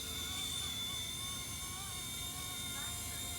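A radio-controlled MD500 model helicopter flies close by, its rotor and motor giving a steady high whine with shifting tonal pitch as it climbs and maneuvers, continuous throughout.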